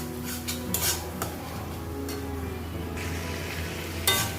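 Chicken is tipped into a pan of spice paste cooked with salt, turmeric and Kashmiri chilli powder, then stirred: close metal clatter and scraping of a spoon against the pan, with a low sizzle underneath and a louder clank near the end.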